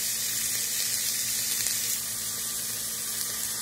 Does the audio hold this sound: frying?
yes